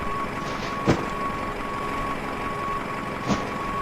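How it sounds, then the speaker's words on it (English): Two short reversing beeps from a catering truck in Microsoft Flight Simulator, sounding at an airport stand beside an Embraer E190, spaced about two and a half seconds apart over a steady low hum of ground noise. "I'm not actually sure why there's a catering truck there."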